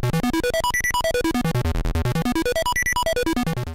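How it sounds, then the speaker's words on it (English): Harsh electronic bleeps and bloops from Parker Brothers' Q*bert on the Philips Videopac console: rapid stepped tone sweeps climbing and falling in repeating pulses, loud and continuous. "the random bleeps, bloops, and harsh noise in place of recognizable sounds and melodies"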